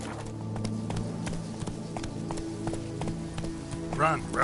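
Roach the horse gallops in The Witcher 3 with a quick, even clip-clop of hooves under continuous game ambience, while a voice speaks over it.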